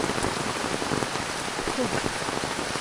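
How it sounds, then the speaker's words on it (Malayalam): Heavy rain pattering steadily on a surface, a dense even hiss of drops with no pauses. "നല്ല മഴയാണ്"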